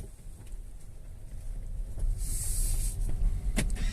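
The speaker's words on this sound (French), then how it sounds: "Le petit bruit que vous avez entendu, ce sont les poignées qui sont rentrées dans les portières." Door handles of an MG Marvel R Luxury electric car retracting into the doors, a short motorized whir followed by a brief click, heard close inside the quiet cabin over a low hum.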